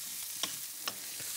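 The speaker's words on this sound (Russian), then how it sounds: "Поджарим все вместе какое-то время." Vegetables sizzle and are stirred in a hot pan while stir-frying for chow mein noodles, a continuous frying hiss broken by a few short clinks of a utensil against the pan.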